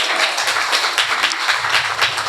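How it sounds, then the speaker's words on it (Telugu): A church congregation at a Sunday worship service in Telugu claps loudly and steadily together, a dense wash of hands filling the hall. "చప్పట్లు కొట్టండి గట్టిగా."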